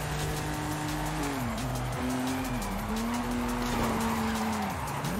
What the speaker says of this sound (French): Ah, elle glisse la voiture.